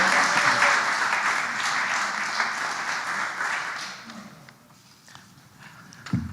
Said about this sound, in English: Oh, we can clap for her. Give it up for Lisa.